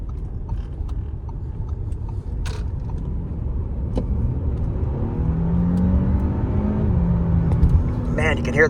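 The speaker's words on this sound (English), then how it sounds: "when you stomp on it, I love the sound of those turbos spooling up" A 2019 Audi A6 Quattro turbocharged engine revs up from inside the cabin, turbos spooling with rising whirring tones as it accelerates, with light creaks and rattles around it.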